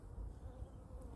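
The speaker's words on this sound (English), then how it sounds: "it's amazing to see the bees around here again after such a long winter in Europe" Bees buzzing outdoors in Europe in spring after a long winter, a steady low droning hum that stays close and even for the whole moment, with no voices.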